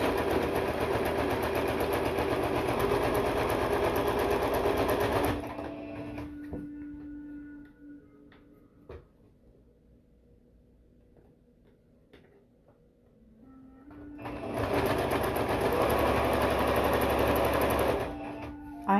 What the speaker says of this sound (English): And then just get to sewing.